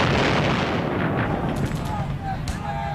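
Distant artillery fire from a Second World War battle near Caen, heard as a dense, continuous rumble of booms and blasts with a few sharper cracks toward the end, steady and loud throughout.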